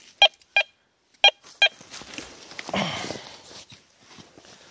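Metal detector sounding over a buried object among castle ruins: four sharp, loud electronic beeps in quick pairs, then rustling and footsteps on the ground with a soft voice-like sound.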